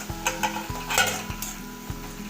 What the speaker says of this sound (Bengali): টমেটোটা একদম নরম হয়ে গেছে ভালো করে একটু মিশিয়ে নিতে হবে